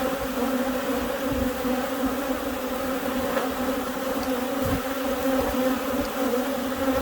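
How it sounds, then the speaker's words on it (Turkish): Steady, droning buzz of many honeybees at a hive in the late afternoon, continuous and close, with no pauses and no talking. "Arı sesi."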